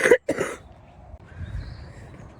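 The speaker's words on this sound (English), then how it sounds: "Just coughing." A person coughs twice in quick succession, loud and close, followed by faint room noise.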